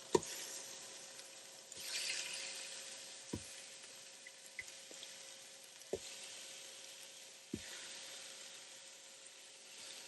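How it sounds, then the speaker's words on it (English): Birria meat browns in a Ninja Foodi Smart XL with a steady, faint sizzle, broken by several sharp ticks and small pops at irregular intervals, with no one talking. "We're browning this meat up."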